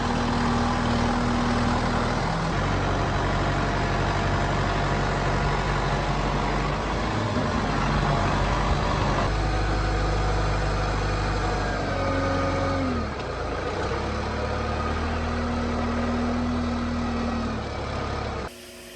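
A heavy tractor engine drones steadily throughout, with shifting low tones and occasional strain as the tractor lurches through deep ruts; no talking.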